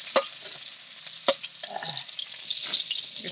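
Vegetables frying in a kadai with green chillies, a steady soft sizzle punctuated by a few sharp scraping clicks as they are pushed aside to clear space.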